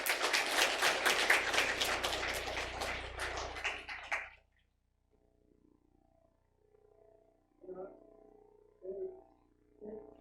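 A church congregation at a Sunday service bursts into loud, dense applause that fills the room for about four seconds and then stops abruptly, followed by a few faint, scattered sounds.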